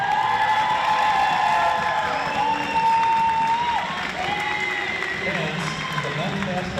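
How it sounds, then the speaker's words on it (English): Crowd at a women's college basketball game, Judson vs. Trinity Christian, applauds and cheers for a player; loud sustained clapping with whoops and shouts, and a voice speaking over it from the public address. "Let's give a big round of applause for Tamia"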